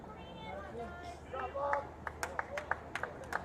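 Sparse, scattered clapping at a boys high school soccer match between Livingston and Westfield as a substituted player leaves the field, a handful of sharp claps following a stretch of murmuring voices nearby.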